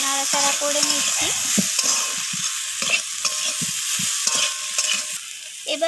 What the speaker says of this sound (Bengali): তো লবণটা দিয়ে আবারও নাড়াচাড়া করে নিচ্ছি।